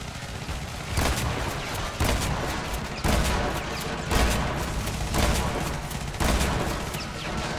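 Repeated shotgun blasts in the Renegade X video game, roughly one heavy boom per second, loud and close, over a constant background of game noise, with no talk.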